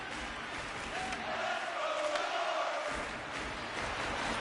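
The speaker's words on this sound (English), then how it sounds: "Energized crowd here on a Sunday afternoon." An energized arena crowd in the hockey video game NHL 26, Jets versus Sharks, a continuous wash of cheering and roaring that holds steady at moderate level throughout.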